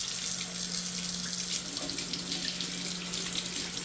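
Water runs steadily from a kitchen faucet into a sink drain while coffee is poured away, with a low constant hum from a garbage disposal running underneath the splashing flow.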